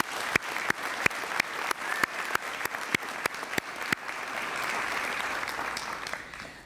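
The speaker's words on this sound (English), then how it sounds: "So let's give them all a round of applause." Applause from an audience at the 2023 Santa Clara State of the City address: a few distinct, separate claps ring out at first, then swell into a continuous, even wash of clapping from a large room.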